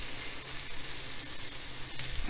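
Bacon and bratwurst sausages frying in a dry pan without oil, a soft steady sizzle and crackle with faint pops, close and continuous with no talking.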